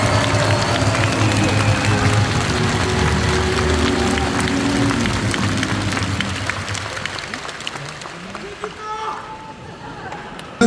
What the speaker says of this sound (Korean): 김준영 당대표 권한대행께 힘찬 박수 부탁드리겠습니다.